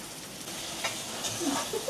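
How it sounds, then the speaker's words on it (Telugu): Food frying in a pan during home cooking, a steady soft sizzle with faint stirring scrapes, alone and fairly quiet throughout. "ఇప్పుడైతే అట్లా మనం బాగా ఫ్రై చేసుకోవాలి."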